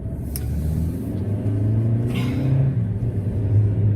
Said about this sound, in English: That car's going like too slow.